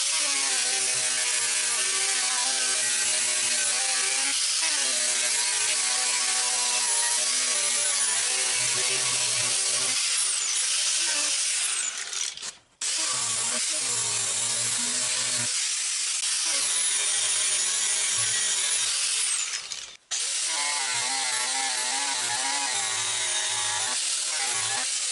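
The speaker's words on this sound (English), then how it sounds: "It's literally just a piece of extra thick sandpaper" A throwing knife is sanded by hand with extra thick sandpaper on a backer, a continuous close, harsh rasping scrape that runs steadily and breaks off briefly twice.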